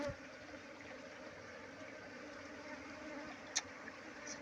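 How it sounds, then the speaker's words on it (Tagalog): A faint, steady buzz of bees hums throughout, with a soft click near the end. "Ayan o. Puro bubuyog na mga idol."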